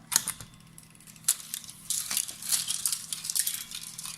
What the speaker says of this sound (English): So I make a cut on the leader